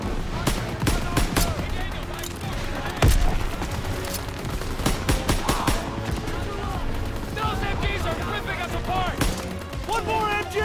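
Dense machine-gun fire and bursts of gunshots in a World War II battle in the game Call of Duty: WWII, with sharp close cracks and a heavy blast under continuous shouting voices.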